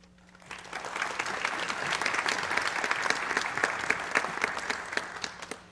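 Audience applause at an honor society ceremony, a steady wash of many hands clapping that swells quickly and holds at a moderate level, heard alone without talk.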